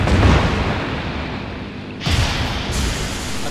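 Explosions in the fantasy video game Final Fantasy XIV come as two heavy, loud booms with roaring broadband rumble, the second bursting about halfway through with no talk over them.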